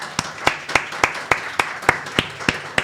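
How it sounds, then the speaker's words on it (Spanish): Sparse, evenly spaced individual claps, roughly three per second, ring out close and sharp over faint background murmur as a guest is welcomed at a board-game event. "Un fuerte aplauso, por favor."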